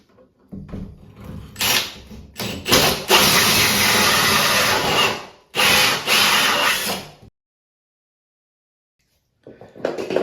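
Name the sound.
drilling hole with hole saw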